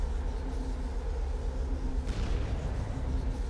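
Explosions in the video game 9 Days rumble as a continuous, loud, booming roar with a sharper burst partway through, no speech over it.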